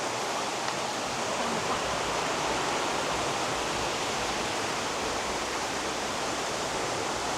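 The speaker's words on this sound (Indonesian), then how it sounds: "Ini sungainya." A river at a camping spot rushes and flows in a steady, loud, continuous broadband wash, with no voices.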